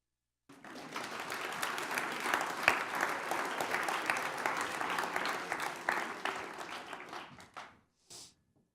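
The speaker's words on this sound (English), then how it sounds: "Hold the applause, please." A lecture-hall audience at a university leadership speaker series breaks into dense, steady applause that holds strong for about seven seconds, then thins and dies away, followed by a brief faint sound.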